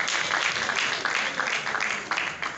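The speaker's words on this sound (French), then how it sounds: "Que les artistes de Nzonzing applaudissent pour eux-mêmes" Artists in the audience at an awards ceremony applaud themselves, a short burst of dense clapping from a crowd in a hall that swells and eases a little.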